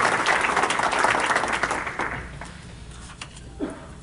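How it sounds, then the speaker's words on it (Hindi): Hall audience at an Urdu Academy classical music mehfil gives warm applause welcoming tabla player Surjit Singh Baba, dense and loud at first, then thinning out and fading to a few scattered claps. "इस्तकबाल कीजिएगा भरपूर तालियों के साथ जनाब सुरजीत सिंह बाबा"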